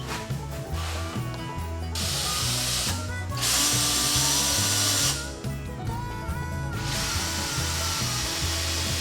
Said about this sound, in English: put the seat in place, and fasten it all together with 3-inch deck screws